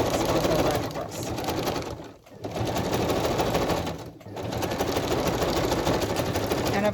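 A sewing machine stitches straight across a boho-style fabric journal cover with a steady, close, continuous whir, pausing briefly twice before running on.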